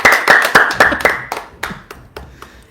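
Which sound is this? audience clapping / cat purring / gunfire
audience clapping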